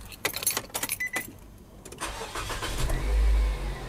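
A car engine is cranked and starts after a few quick clicks and rattles, the starter whirring briefly before a low idle rises and settles near the listener.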